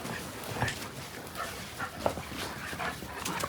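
Several golden retrievers, Labradors and a goldendoodle in a yard give faint, scattered whimpers and soft yips, brief high cries popping up intermittently over a quiet background.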